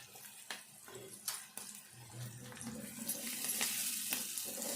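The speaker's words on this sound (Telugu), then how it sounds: "ఈ ఉల్లిపాయ, పచ్చిమిర్చి మంచిగా వేగాలి." Onion and green chillies frying in a pan, a soft sizzle that builds steadily, with a few quiet spatula knocks early on.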